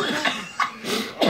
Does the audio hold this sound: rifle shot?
no